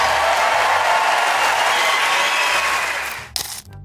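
A comedy show audience roars and applauds in a steady, loud wash of clapping and cheering that fades near the end, closing on a brief sharp burst.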